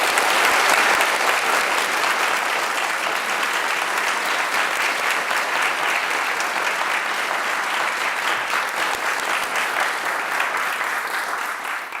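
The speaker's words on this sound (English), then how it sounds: "let's just give them a really big round of applause" A large audience at Nobel Minds 2024 applauds loudly and continuously for about twelve seconds, a dense even wash of clapping that softens slightly at the end.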